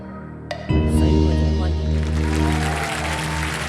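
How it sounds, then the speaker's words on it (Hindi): Studio audience applause on the KBC game show rises suddenly after a sharp sting, blending with loud swelling music and continuing as steady clapping underneath. "ताली बज गई, बताने की जरूरत नहीं है, बिल्कुल सही जवाब है आपका।"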